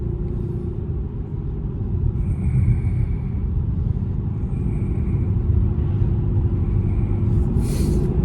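A Cadillac CTS-V with over 600 horsepower rumbles steadily from inside the cabin during a ride, a deep, loud, continuous engine drone with road noise and no talk.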